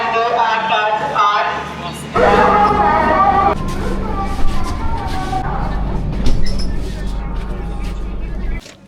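Shatabdi Express from Puri pulling into Howrah station, a loud, steady low rumble and rolling clatter of the arriving train that strengthens midway, with platform voices and station bustle mixed in.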